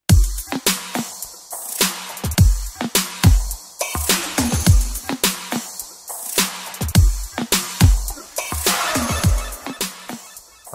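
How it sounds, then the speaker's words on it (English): The hook drums of a song: a steady groove with thumping kicks and sharp snare hits repeats in a tight, driving loop. "Once you add the main kick and snare, the hook drums sound like this."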